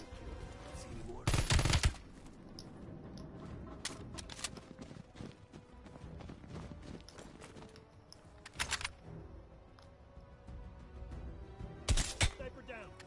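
Sniper fire rings out in the Call of Duty Cold War campaign: three loud, sharp shots spaced several seconds apart over a low in-game ambience.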